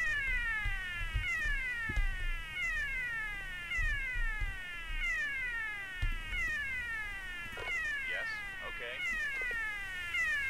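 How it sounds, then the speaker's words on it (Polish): An insistent cat meows over and over in a quick run of drawn-out falling cries, loud and close, continuing almost without pause. "przestań miauczyć"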